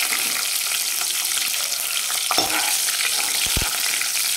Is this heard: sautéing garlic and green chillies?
yes